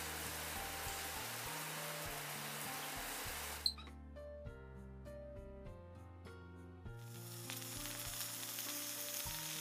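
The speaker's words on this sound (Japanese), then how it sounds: "油の跳ねる音に卵が焼き固まる時の音が加わり、あたりにも香ばしい匂いが漂っていく。" Bacon and eggs frying in a pan in a video game kitchen: steady bright sizzling and spattering that cuts out briefly midway with a short clatter, then resumes, over soft game background music.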